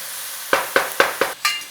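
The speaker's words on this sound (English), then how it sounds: "Little stir around." Food sizzles in a pan while being stirred, with five quick, sharp scraping strokes of a utensil sounding close and loud over a steady, soft frying hiss.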